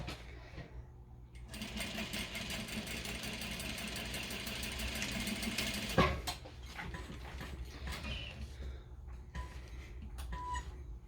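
A sewing machine stitches a half-inch seam on a poop bag holder, running steadily for several seconds, then stopping and restarting in short bursts for back-stitching, with small mechanical clicks between runs.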